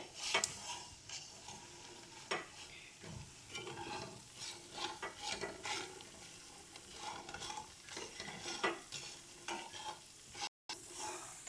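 Bori, small lentil dumplings, fry in oil while being stirred, giving quiet sizzling and repeated scraping and clinking of a utensil against the pan, all fairly faint and close.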